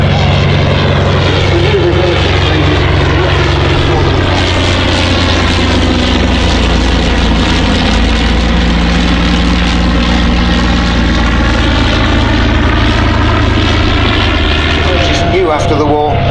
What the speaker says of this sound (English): It's light, it's agile, it's powered by an 80 horsepower Wren 9-cylinder rotary engine